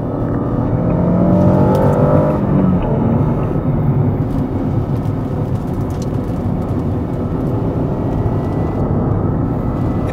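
A 2005 Acura NSX sports car fills the clip with a loud, steady engine drone and road roar that never lets up, with no talking.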